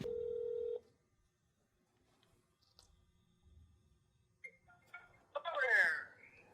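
Telephone being dialed to place a call: a steady electronic tone rings out loudly for under a second, then gives way to faint clicks and low rustling before a brief burst of chirpy noise near the end.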